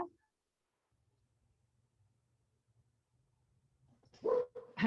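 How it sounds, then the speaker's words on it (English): A single dog lets out a short burst of barks near the end, close and fairly loud after a long quiet stretch with only a faint low hum. "Just as my dog started to bark."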